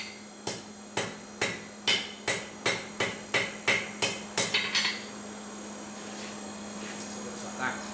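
A hammer strikes a steel toasting fork on an anvil about a dozen times in a steady, ringing rhythm, close and sharp over a low hum, then the blows stop and the room goes quiet.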